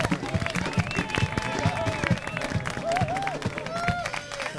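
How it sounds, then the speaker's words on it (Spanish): A studio audience on a Spanish TV show applauds, a dense burst of clapping mixed with crowd noise and overlapping voices. "¡Fuerte el aplauso a Lucy Paradise!"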